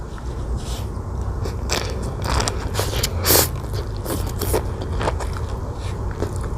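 Sea grape seaweed and crab sticks are eaten close to the microphone in an ASMR mukbang, with a run of crisp bites, pops and wet chewing crackles at an irregular rhythm and no speech.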